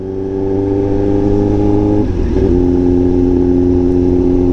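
A motorcycle engine drones loudly and steadily while riding on a road at night, holding an even pitch with a brief dip and recovery partway through.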